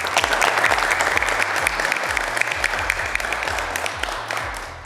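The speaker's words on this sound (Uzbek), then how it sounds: "jamoalarni yana bir bora olqishlaymiz" An audience applauds the teams at a Brain Ring quiz game, with loud, sustained clapping from a large crowd that holds steady for several seconds before tapering slightly at the end.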